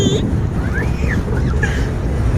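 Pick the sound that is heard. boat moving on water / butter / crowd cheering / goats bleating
boat moving on water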